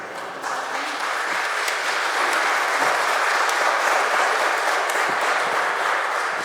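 A church congregation at Sunday Mass breaks into sustained applause after the homily, a dense, steady wash of clapping from many hands that holds evenly at full strength throughout.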